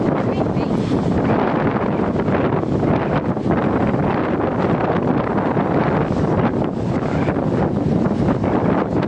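Strong wind roars constantly, buffeting the microphone outdoors on a trip to a Kankai Mata temple, loud and unbroken from start to finish.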